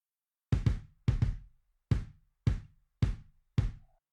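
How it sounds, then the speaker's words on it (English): A MIDI kick drum with effects processing thumps through a short pattern: doubled hits, then single ones, about eight punchy, deep strikes with brief decay and silence between, close and alone. "the kick sounds like this"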